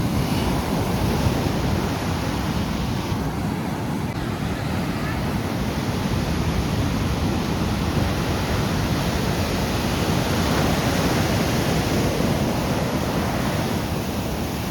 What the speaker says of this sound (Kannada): ಅಲೆಗಳಂತೂ ಎಷ್ಟು ದೊಡ್ಡದಾಗಿ ಬರ್ತಾಯಿತ್ತು